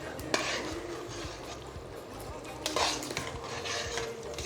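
Beef and rougail are stirred in a pot with a metal utensil, giving repeated scraping and clinking of cutlery against the pan alongside soft wet mixing sounds.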